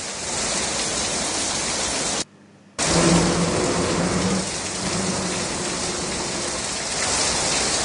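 Heavy monsoon rain over Mumbai and its suburbs, a steady dense roar that runs loud and unbroken apart from a brief cut of near silence partway through, with no voices.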